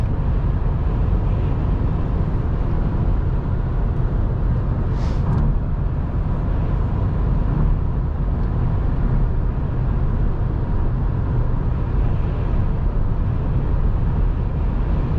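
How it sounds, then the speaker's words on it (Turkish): Constant wind noise from the window roars inside a Fiat Doblo 1.6 Multijet diesel moving at about 115 km/h, a steady broadband rush with road rumble beneath and no pauses. "Şu anda 115 gibi hızla gidiyorum camdan rüzgar sesi geliyor."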